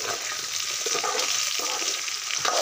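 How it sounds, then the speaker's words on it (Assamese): Food fries in hot mustard oil with salt added, giving a dense, continuous sizzle and crackle that stays close and fairly loud throughout, with no talking. "ফলে নিমক দি দিছে এতিয়া মিঠাতেলত ভাজি আছে"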